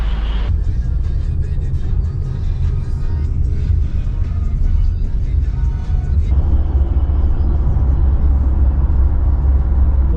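Inside a car driving at night in Jakarta, a constant low engine and road rumble fills the cabin, loud and steady throughout with no talk.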